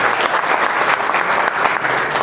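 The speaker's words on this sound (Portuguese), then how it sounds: "Então eu queria pedir uma salva de palmas para a Lourdes." Sustained audience applause at a municipal swearing-in and diploma ceremony for councillors, dense steady clapping from a room of people throughout, loud and even with no gaps.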